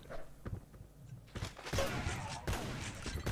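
Gunfire from the video game Xonotic: several sharp bursts of shots and impacts in quick succession, fairly faint, with a broadband crackle between hits.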